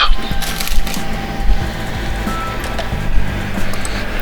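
A wooden door is forced open, with loud cracking and splintering of wood in several bursts over a steady low rumble.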